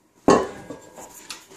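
A lidded Dutch oven being handled, giving one sharp metallic clank followed by a few softer rattles and knocks of the lid against the pot, close and clear.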